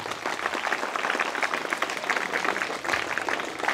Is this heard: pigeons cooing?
no